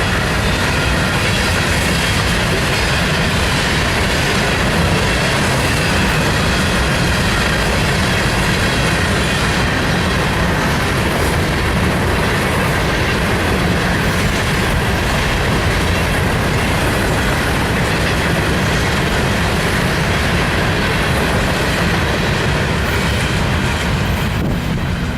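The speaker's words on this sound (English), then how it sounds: "Here comes the train, folks." A train roars past close by at a Florida train depot for a long stretch, loud and continuous, with rumbling wheels and rhythmic clatter on the rails.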